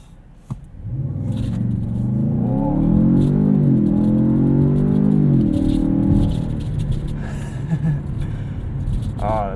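A 2017 Ford Fusion Sport launches hard from a brake-torqued start, its engine rising into a loud, climbing acceleration heard from inside the cabin, with people talking over it.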